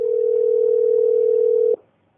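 A single steady telephone tone on a recorded phone call holds loud and even for under two seconds, then cuts off abruptly into near silence.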